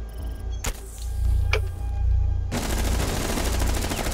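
Gunfire in Rainbow Six Siege: a few sharp isolated shots, then a dense, loud stretch of rapid automatic fire.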